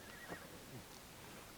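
A horse in Assassin's Creed Valhalla lets out a short, soft whinny within quiet game ambience, with faint hoof-like thuds and no talk over it.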